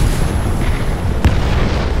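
A bomb explosion in the War Thunder video game, a deep low boom with a brief sharp burst over a continuous heavy rumble of engine and battle noise.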